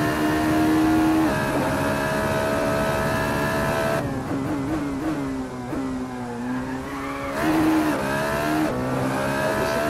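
A Formula Renault 3.5 racing car at Sepang in Malaysia, in the Assetto Corsa sim, holds a loud, steady engine note, then drops abruptly and wavers unevenly in a botched gearshift before climbing again.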